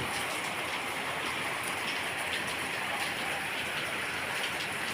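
Light drizzle falls in a village setting, a soft, even hiss of fine raindrops that continues unbroken throughout, with no voices.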